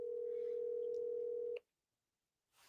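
A telephone line gives a steady single tone for a second and a half before cutting off to silence while dialing for a voicemail, followed by faint noise.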